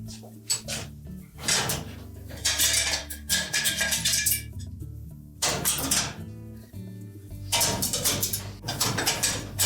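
Metallic clanks and rattles as a Frigidaire range heating element and its drip bowl are pushed into the terminal block and seated, close and irregular, with brief quiet gaps between bursts.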